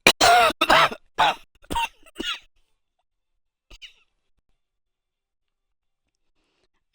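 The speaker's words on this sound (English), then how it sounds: "I cannot get rid of this fucking cough" A person with a lingering cough from a recent illness lets out a rapid cluster of harsh, close coughs, then one faint one, followed by near silence.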